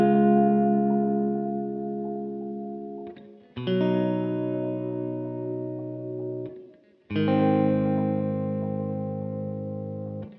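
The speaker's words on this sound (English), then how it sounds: "it makes it a random choppy wave, which is pretty cool" A Demedash Effects T-60 analog modulator pedal set to a random choppy LFO, sustained electric guitar chords rung out three times, each held note warbling and chopping in irregular pulses with distortion, no voice.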